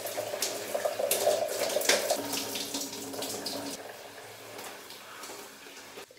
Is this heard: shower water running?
yes